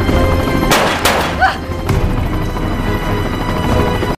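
Gunfire from a film, with two sharp loud shots over a dense, noisy soundtrack, followed by a sustained rumbling mix.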